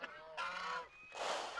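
Several loud goose honks close by, brassy calls in quick succession with a brief pause between them.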